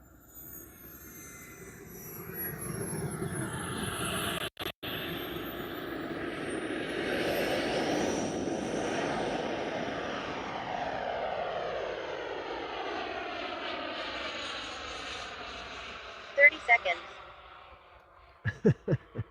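A radio-controlled MB339 model jet with a turbine engine flies past, a loud rising and falling whoosh with a Doppler sweep as it approaches and recedes, then brief sharp bursts near the end.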